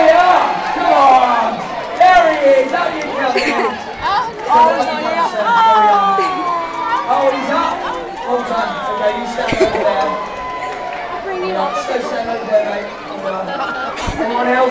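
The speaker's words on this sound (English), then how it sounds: "Give him a big cheer." Crowd at a holiday-camp Abba party at Butlins Bognor, a loud busy babble of chatter and scattered cheering from many people, continuous and close, with voices calling out throughout.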